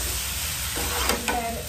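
Tomato chutney simmers on a low gas flame, giving a steady soft bubbling sizzle with a couple of brief stirring scrapes near the end, close and alone.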